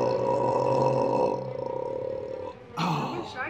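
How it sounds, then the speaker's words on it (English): A long, low, rumbling burp from a person chugging Coke Zero from a large calf milk bottle, droning loudly for about two and a half seconds before a brief breathy noise at the end. "I got a burp first, though."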